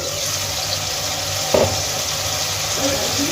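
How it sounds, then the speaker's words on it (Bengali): Tomatoes frying in a covered pan for a restaurant-style tomato mash, a steady close sizzle with a brief clatter midway, likely the lid being handled, and no talking. "টমেটোগুলোকে ভেজে নেব পাঁচ মিনিটের মতো"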